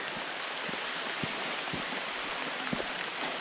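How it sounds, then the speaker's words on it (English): Light rain starts to fall on a hiking trail, with scattered soft drops ticking against a steady hiss of outdoor background noise and no voices. "Just spitting. It's not a heavy rain yet, so no rain jacket."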